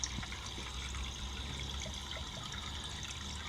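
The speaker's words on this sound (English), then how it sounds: "There's more water coming out. Liquid is all coming out here." Water draining out of a leaking CPU water cooling block inside a computer case, a faint, steady trickle and dribble of liquid running continuously without speech.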